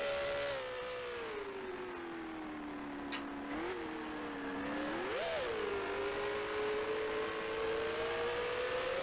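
Racing car engine in Grand Prix Legends, a 1960s Formula One sim driven at Brands Hatch in a 1965 car: a continuous close engine drone that holds steady, dips, then rises in two quick revs around gear changes, with no talk.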